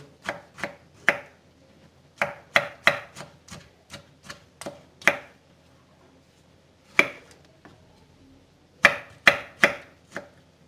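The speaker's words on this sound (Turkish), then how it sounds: "Domatesimi ince ince diliyorum bu şekilde." A knife slices a tomato thinly on a cutting board, making a run of sharp, close chopping clicks in quick irregular bursts with short pauses between the groups, and no voices.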